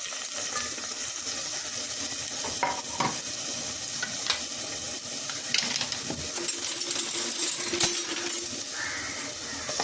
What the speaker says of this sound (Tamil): அதே பாத்திரத்தில் கொஞ்சமாக ஆயில் ஊற்றி பீட்ரூட்டை வதக்கிக்கலாம்.